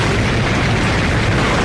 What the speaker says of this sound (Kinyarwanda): isasu kigiye guturika